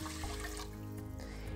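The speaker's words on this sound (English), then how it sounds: "So now I'll be pouring in my 2 cups of water" Two cups of water poured into a pot of rinsed rice on the stove, a short close splashing stream that runs steadily for under two seconds, with no speech.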